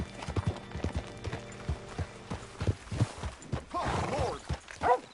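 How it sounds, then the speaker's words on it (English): In the video game Red Dead Redemption 2, a horse's hooves clip-clop in an uneven series of close, hollow knocks, with creaks and a brief snort or whinny near the end. "Hitch your horse up here."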